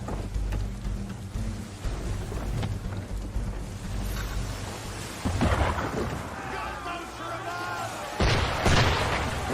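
Cannon fire at sea in Assassin's Creed 3: heavy booming blasts rolling over a constant low rumble of wind and water, with a loud burst midway and another near the end, under game voices.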